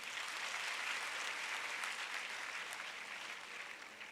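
Steady applause from a seminar audience at a counselling programme, a continuous dense patter of many hands heard somewhat distant and soft, holding evenly for several seconds before easing slightly.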